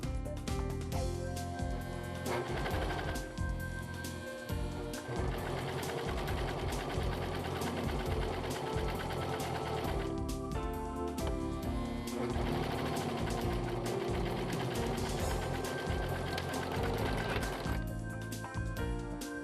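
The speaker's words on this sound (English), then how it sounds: "Serge end to end." Brother 1034D serger stitching fabric end to end, a loud, fast mechanical chatter of needles and knives running continuously for about twenty seconds with brief dips in speed, no voices.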